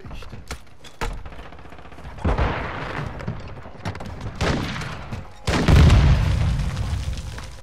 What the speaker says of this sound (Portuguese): Aí eu morri pra todas as granadas que foram lançadas nesse jogo